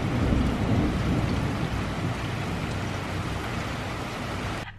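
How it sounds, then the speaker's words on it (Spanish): Heavy rain pours down steadily with a deep, rumbling thunder throughout, dense and close, with no voices. "empezó a llover muy fuerte"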